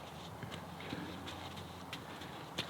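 Horse shuffling around in a herd, its hooves giving soft, irregular clip-clops on the ground, quiet and close with no talking.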